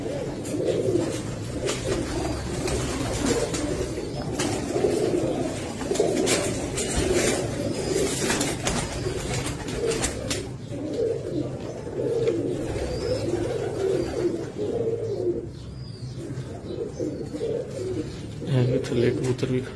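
Pigeons of good breeds coo softly and continuously in a loft, a low murmuring layer with occasional brief louder coos, while someone talks at times over them.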